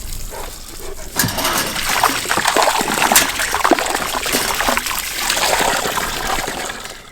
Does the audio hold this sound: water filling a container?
yes